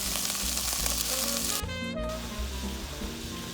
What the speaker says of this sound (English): I'm going to finish browning off our beef